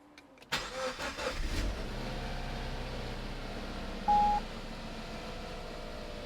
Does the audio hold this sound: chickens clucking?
no